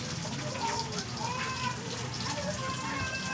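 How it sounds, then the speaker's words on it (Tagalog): Steady rain falls outdoors, a soft, continuous patter with faint droplet hiss, low in level and unbroken throughout, with no talk. "Ulan."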